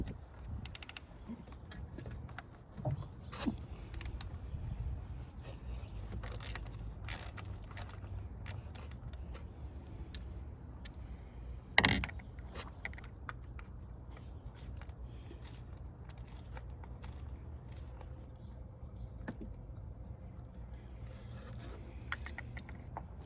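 An 8mm socket on a small extension loosens a coil pack bolt on a 2012 Ford F-150 Coyote engine, giving faint scattered ratchet clicks and metallic scrapes with one sharper knock midway through a long quiet stretch.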